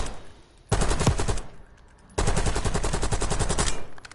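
Weapon gunfire in the video game Black Ops 6: two loud bursts of rapid automatic shots separated by a short pause, close and dominant.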